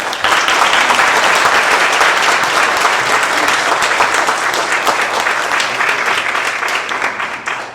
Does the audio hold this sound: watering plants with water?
no